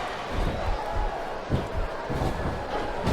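Arena crowd noise from a wrestling match in the video game SmackDown vs. Raw 2007, a steady loud roar of cheering with a few swells, no talk over it.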